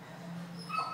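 A frightened, dirty dog gives a brief, faint whimper that rises into a yip, close by and heard alone over steady background noise.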